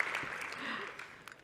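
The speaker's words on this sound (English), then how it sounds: "We can take a round of applause for that too" Short, moderately quiet burst of applause from the audience at a technology talk on Vue, a steady wash of clapping lasting about a second and a half.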